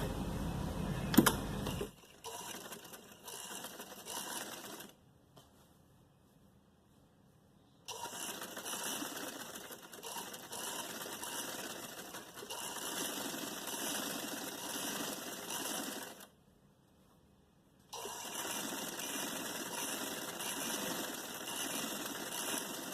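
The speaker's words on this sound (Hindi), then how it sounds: "मैं यहाँ पे एक सिलाई करूंगी।" A sewing machine stitches folded fabric in three runs of steady rapid whirring, separated by short pauses, quiet and close.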